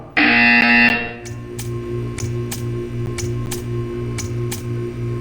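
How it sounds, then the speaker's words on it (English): Portal 2 test chamber buzzer: a loud sustained electronic tone for about a second, followed by a series of sharp regular ticking clicks continuing steadily. "When you hear the buzzer, stare at the art."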